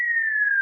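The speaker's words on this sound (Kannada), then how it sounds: "ಯಾರೋ ಅವ್ನು ವಿಜಿಲ್ ಹೊಡಿತಾ ಇರೋದು." A single steady whistled tone, slightly falling in pitch, held clear and fairly loud for under a second with nothing else around it.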